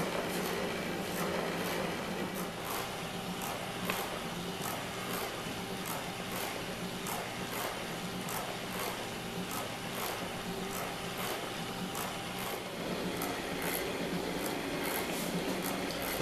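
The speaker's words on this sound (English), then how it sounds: "you can see the two bellows operating" The motor drive of a busker organ turns its gears and a connecting rod working two bellows, making a continuous mechanical whir with evenly spaced, rhythmic clicks and ticks, heard close and alone.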